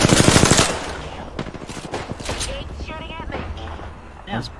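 Gunfire in the Apex Legends video game, a loud burst of rapid automatic shots at the start, then scattered shots and game effects while players talk over it.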